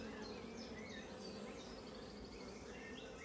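Honeybees from an F2-queen colony hum steadily at an open hive, a dense, continuous buzz with individual bees zipping past, with no pause throughout.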